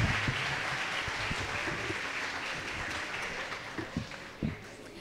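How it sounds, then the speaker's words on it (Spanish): An audience at an international congress on neurology, neurosurgery and neuropsychiatry applauds fourth-semester psychology students, a steady wash of clapping with scattered louder claps that holds for the whole stretch at moderate distance. "un fuerte aplauso para los de cuarto semestre"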